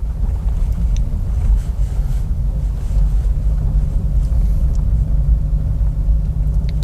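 A car creeps slowly along a damaged road full of potholes, producing a loud, continuous low rumble with wind buffeting and no talking.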